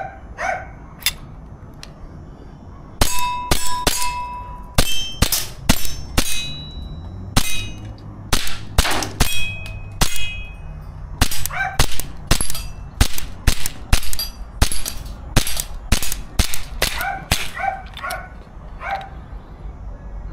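A KJ Works CZ Shadow 2 airsoft pistol is test-fired, sharp cracking shots coming singly and in quick strings, loud and close over a low steady background hum.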